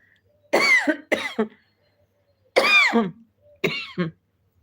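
Four separate coughs in two pairs, close and fairly loud, each a rough burst with a short tail, with quiet gaps between them.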